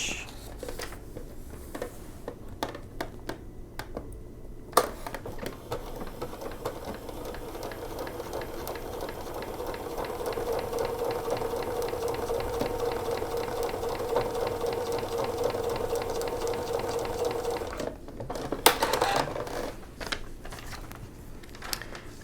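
Sewing machine stitching quilt blocks for a dragon fruit block-of-the-month quilt, a steady rapid mechanical whir and needle patter running close and continuous for most of the clip, with brief pauses near the start and end.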